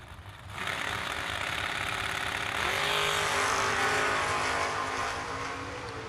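A Chevy Camaro drag race car launches and roars down the strip in a live drag racing event, the engine note rising into a loud, sustained, revving blare that holds steady and then begins to fade slightly, heard from a distance.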